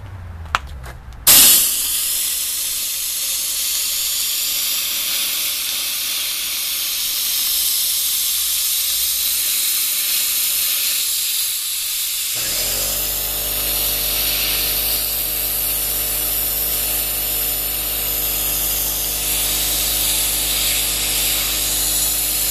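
A cheap homemade sandblaster bursts on with a sharp blast and then sprays in a loud, continuous hiss that lasts the rest of the clip. Partway through, a deep low rumble joins in.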